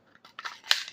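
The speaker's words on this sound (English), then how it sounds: "you drop your magazine, grab your other one, slip it in" A magazine slides into a Glock pistol in one quick, close sequence of light scrapes ending in a sharp metallic click, brief and with no talking.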